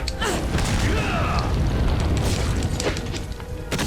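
A grenade blast in Resident Evil 4 booms loudly, followed by a rumbling, crackling wash of noise that fades slightly toward the end.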